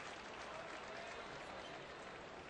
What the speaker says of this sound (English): a big round of applause for Ken Griffey Jr. as he comes out of the game